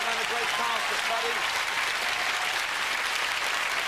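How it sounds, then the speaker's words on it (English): Studio audience applause on a British TV game show, a steady dense wash of many hands clapping that stays loud and even throughout, with some voices mixed into the crowd noise. "applause, ladies and gentlemen"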